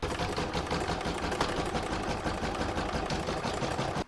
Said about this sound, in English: So I'm going to pop that in my machine and stitch round number 2, which is the stitch down round.